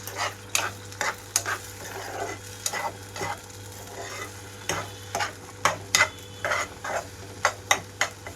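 Beaten eggs sizzle in a hot pan over high flame after cumin seeds are fried, for egg fried rice, while a spatula scrapes and clacks in quick irregular strokes over the constant frying hiss; no talking.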